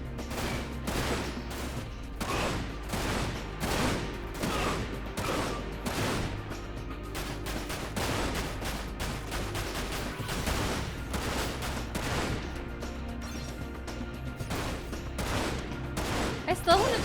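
Rapid gunfire from the shooter game Dirge of Cerberus (Final Fantasy VII), with dense repeated shots and bursts running continuously at steady loudness, game music and effects layered underneath.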